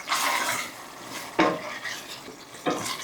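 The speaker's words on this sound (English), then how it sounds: "I'm going to let that continue to cook until those vegetables soften up" Vegetables cooking in a pan over medium-low heat give a steady soft sizzle, with a few stirring scrapes and clinks of a utensil against the pan. No one speaks.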